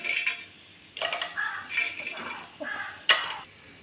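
Cinnamon and cloves go into hot oil in a pressure cooker, producing short bursts of scraping and light sizzling close by, with clinks from a utensil against the pot.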